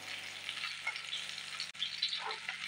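An egg fries in a pan with a soft, faint sizzle and light crackle, steady apart from one brief dip, with no voices over it.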